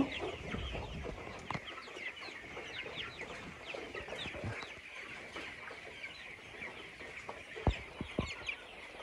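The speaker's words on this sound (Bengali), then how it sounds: "এই মুরগিটা দেখুন অনেকটা বড়।" Farm chickens cluck and murmur continuously up close, with scattered louder squawks and small knocks from the flock.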